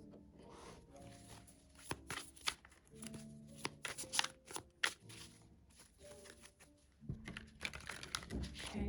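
Tarot cards shuffled and pulled from the deck, soft close riffling and flicking in uneven bursts, quiet and intimate, with no talk over it.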